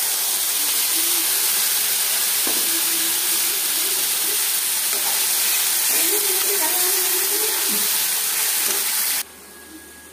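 Chopped tomatoes and spices fry in a pan for egg curry, a constant loud hissing sizzle with faint voices and clinks underneath that cuts off abruptly near the end.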